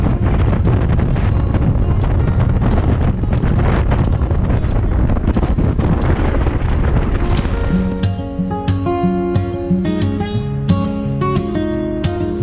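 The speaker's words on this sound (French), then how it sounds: "le vent a toute sa force et on le ressent" Strong wind buffets the microphone during a motorcycle crossing of an arm of the sea in the Îles de la Madeleine, a loud continuous roar that eases after several seconds into a lighter rushing with faint tonal hum.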